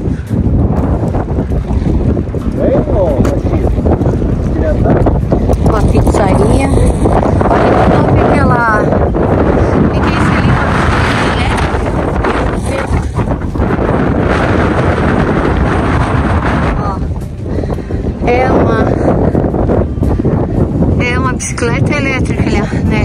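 Strong gusting wind buffets the microphone outdoors around El Chaltén in Patagonia, a loud continuous rumble that swells and eases throughout, with voices talking over it in places.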